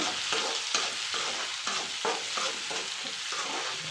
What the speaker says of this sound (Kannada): ಚೆನ್ನಾಗಿ ಫ್ರೈ ಮಾಡೋಣ ಈರುಳ್ಳಿನ.